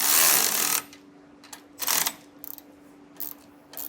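A 3/4 inch socket and wrench snug down bolts on a Roadmaster Exact Center steering stabilizer on a 2019 Holiday Rambler, giving bursts of close ratcheting clicks separated by short pauses.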